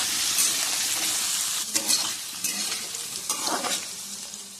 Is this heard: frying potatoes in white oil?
yes